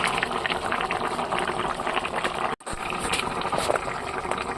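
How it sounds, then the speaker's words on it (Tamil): Steady bubbling and hissing of chicken curry gravy with coconut paste boiling in a pot on the stove, continuous with a brief cut in the middle. "இப்போ குழம்பு வந்து தேங்காய் பேஸ்ட் ஊற்றி நல்லா கொதிக்குது"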